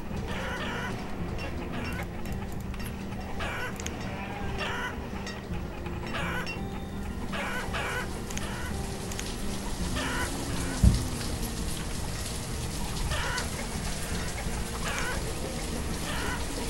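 Chickens cluck repeatedly on a farm in the city-building game Banished, short scattered clucks over a constant rain-like hiss of game ambience, steady and moderately loud with no speech.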